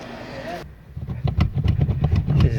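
A VW Mk2 GTI's starter churns the engine in a fast rhythmic series of close, loud cranking pulses after a brief spoken remark.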